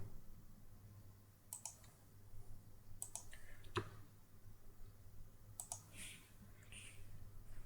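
A computer keyboard in a home music studio gives a few sharp, quiet key clicks spaced apart over a low steady hum, with no voices.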